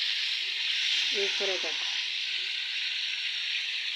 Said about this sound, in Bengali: মাংসটাকে ভালোভাবে ভেজে নিচ্ছি।